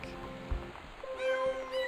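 A cat meowing in the Gone Home game, two short close meows in quick succession, the second a longer tonal cry.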